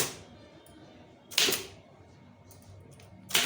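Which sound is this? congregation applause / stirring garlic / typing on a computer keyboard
typing on a computer keyboard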